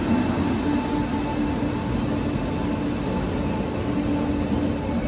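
A Rajdhani Express from Nizamuddin to Thiruvananthapuram Central rolls into platform 4 at Ernakulam Junction, giving a steady, loud rumble of wheels and carriages with a faint tonal hum that holds level throughout.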